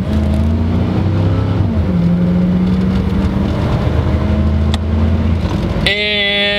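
A 1993 Cadillac Fleetwood limousine drives along with a loud, steady engine drone and road noise, the engine note dipping briefly before a whine and a voice break in near the end.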